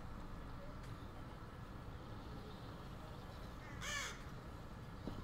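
A crow in The Walking Dead: Michonne gives one loud, harsh caw over a steady bed of low ambient noise near an abandoned boat.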